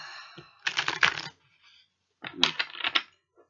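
Two short bursts of crisp, riffling tarot card shuffling clatter, each lasting under a second, separated by a quiet pause; close and fairly loud with no talking.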